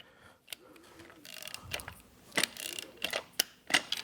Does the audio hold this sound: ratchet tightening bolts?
yes